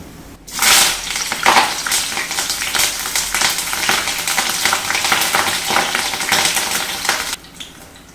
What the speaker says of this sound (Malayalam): പച്ചമുളകും വേപ്പിലയും വറുത്ത്